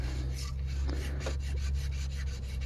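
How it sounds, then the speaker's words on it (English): Light, repeated scraping strokes clean the metal engine surface for the O-ring seals during timing belt work on a Dodge Nitro 4.0, soft rasping passes over a steady low hum. "Just scrape it lightly."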